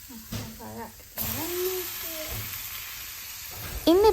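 Ripe banana softening in hot ghee in a home kitchen pan, a steady soft sizzle running through the clip while someone talks over it and a few utensil knocks come and go.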